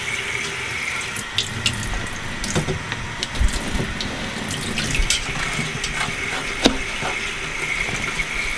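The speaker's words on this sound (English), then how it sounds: "I typically like to do it under the running water" Tap water runs steadily into a sieve while quail cecal worms are rinsed, a continuous splashing hiss broken by small clinks and handling noises.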